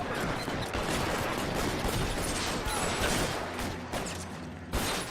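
Dense, continuous gunfire from the crime video game LA Noire, a rapid loud fusillade that rattles on through the clip with mechanical clatter mixed in.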